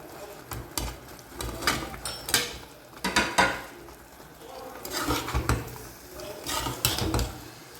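Fried chicken stirred into a thick dragon chicken sauce in a pan, with repeated scraping and clattering strokes of a utensil against metal that come in uneven bursts.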